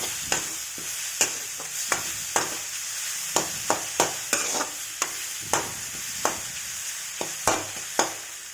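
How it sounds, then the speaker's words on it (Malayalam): Onion, garlic and green chilies sautéing in a pan, a steady sizzle broken by regular spoon scrapes and clicks against the pan about once a second, close and clear with no voice. "ഇതെല്ലാം ഒന്ന് ഇളക്കി 1 മിനിറ്റ് അതിൻ്റെ പച്ചമണം പോകുന്നത് വരെ ഒന്ന് വഴറ്റാം."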